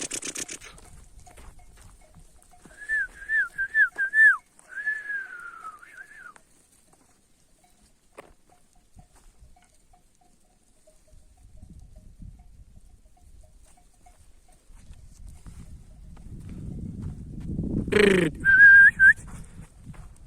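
A flock of sheep is herded outdoors by a shepherd who whistles and calls to them. Bursts of whistling and short cries are heard over long quiet stretches, and a closer shuffling, rustling commotion builds near the end.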